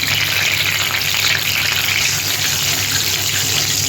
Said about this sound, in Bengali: এটা গরম হয়ে গেছে, আমি এবার রান্নার জন্য তেলটা দিয়ে দিচ্ছি